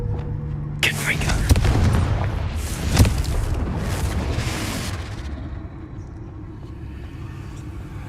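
A Confringo fire spell exploding in the video game Hogwarts Legacy: an abrupt blast followed by several seconds of roaring, crackling rumble with a sharp extra bang midway, fading to a low tail, with speech heard alongside.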